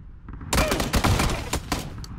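Gunfire in the video game PUBG, a loud close burst of rapid shots followed by a few scattered single cracks and fainter distant pops.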